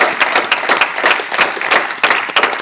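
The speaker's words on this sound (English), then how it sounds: "give a round of applause for my last" Loud, close audience applause with distinct individual claps in an uneven, lively rhythm, rising and dipping over a few seconds without speech.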